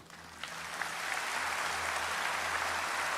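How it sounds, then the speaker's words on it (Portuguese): Applause from a church congregation for a visiting choir, a steady broadband wash of clapping that builds in the first half second and holds evenly, with a low hum beneath and no talk. "Eu quero que vocês dêem uma salva de palmas para esse pessoal do coral que está aqui."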